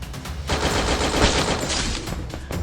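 Gunfire in a video game: a loud, close burst of rapid shots that holds for about two seconds, with a few sharp single cracks at the start and the end, and no voices.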